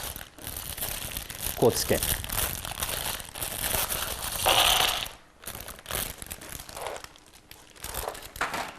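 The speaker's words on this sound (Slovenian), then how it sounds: "Jaz bom vsako vrečkico stresel v svojo škatlo" Small plastic bags of robotics building blocks and sensor pieces are shaken out into storage boxes, giving long stretches of loud crinkling plastic and rattling parts, with a brief pause, under someone speaking.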